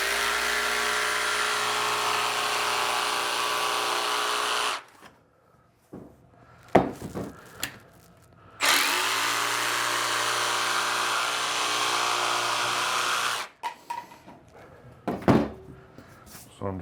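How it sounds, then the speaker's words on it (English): A jigsaw with a general purpose blade cuts through vinyl plank flooring in two loud sustained buzzing bursts, separated by short gaps with knocks and handling of the plank. "So I'm just using a jigsaw blade, and you can see it makes a nice clean cut."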